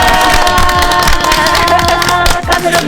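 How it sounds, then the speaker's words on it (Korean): Group of adults and children at a care centre event clapping together and cheering loudly, dense rhythmic applause with shouts throughout. "다 같이 자, 이 같이 외치고 박수 치고 마무리 짓겠습니다"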